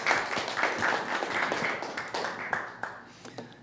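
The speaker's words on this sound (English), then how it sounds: "big round of applause for Cindy" A live audience gives a round of applause at a body language show, dense clapping that stays fairly steady at first and then thins out and fades toward the end.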